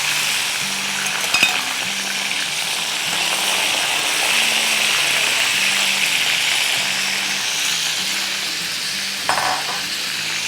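Green and purple brinjal fry in hot oil with a continuous loud sizzle and crackle, steady throughout, with a couple of soft knocks near the start and end.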